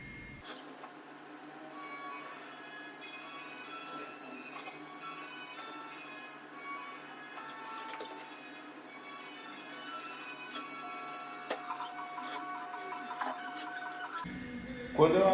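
A tattoo machine fitted with a magnum needle, used on a client's skin to shade Japanese lettering with a brush effect, gives a steady, close mechanical buzz with whining overtones that stops abruptly near the end.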